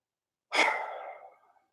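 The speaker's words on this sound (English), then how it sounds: "Then exhale." A single long exhale during a yoga standing forward bend, close and soft, breathed out steadily and fading over about a second.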